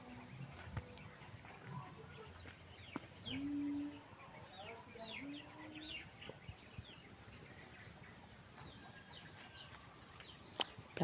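Chickens and newly hatched chicks at a farm coop, with faint high chick peeps scattered throughout and a few low clucks from a hen, quiet and somewhat distant.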